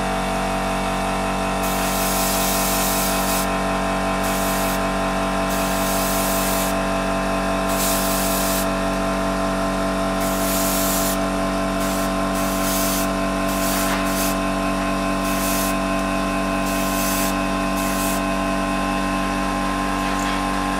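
Airbrush spraying Vallejo Model Air paint at 20 psi onto an Ultramarine miniature, a constant hiss in repeated bursts over a steady mechanical hum, close and continuous.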